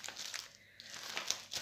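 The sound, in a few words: opening a cross-stitch kit envelope, paper crinkling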